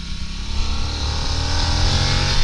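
A 2022 Harley-Davidson Nightster engine winds up to a high-rev roar, a loud, close, steady rising drone that builds over a couple of seconds with no talk.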